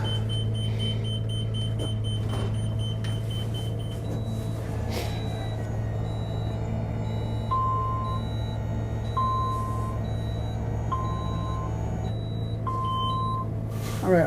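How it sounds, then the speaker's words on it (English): A 2024 Newmar Ventana 4037 RV leveling system gives warning beeps over a steady low engine idle, first a series of high short tones, then a lower beep repeating at regular intervals alongside them. "So that beeping that you heard, I was showing that one of them was a little bit down"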